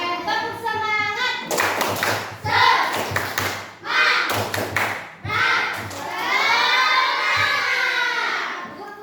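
Children perform a 'tepuk semangat' clapping chant in a classroom, sharp hand claps landing in rhythmic bursts between loud group chanting voices, with a drawn-out sung shout near the end.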